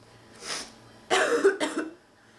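A sick woman coughs harshly up close, one short cough followed after a pause by a stronger burst of two or three rough, raspy coughs.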